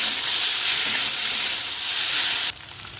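Lightly boiled Maggi noodles with Maggi masala fry in a pan with a loud, steady hissing sizzle that drops abruptly softer near the end, with no talking.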